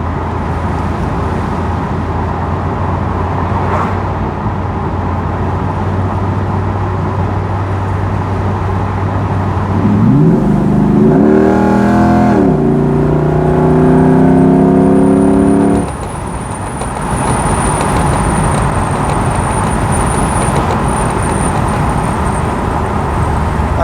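A fifth-generation Chevrolet Camaro on the road: a steady low engine drone swells into a rising, revving acceleration note midway, then settles back into cruising road noise with a faint high whine.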